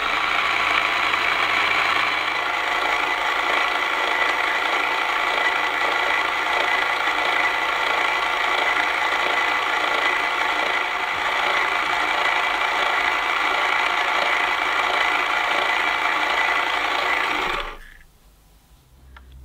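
A Tomy Minimatic toy washing machine runs with a steady, loud motor whir and rattling vibration that holds evenly for about seventeen seconds before cutting off abruptly, leaving near silence.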